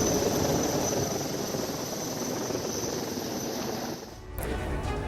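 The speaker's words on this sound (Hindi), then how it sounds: "फंसे हुए लोगों को सेना के हेलीकॉप्टर ने रेस्क्यू किया है।" An army rescue helicopter flies overhead, giving a loud, steady roar of rotor and engine that dips briefly near the end and then returns.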